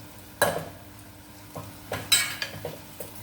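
Masala paste being stirred into fried onions in a pan for a mushroom curry, with a few separate scraping strokes against the metal and a faint sizzle underneath.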